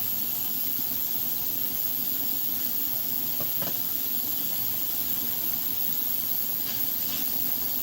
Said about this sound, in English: I'm gonna sear them in something like this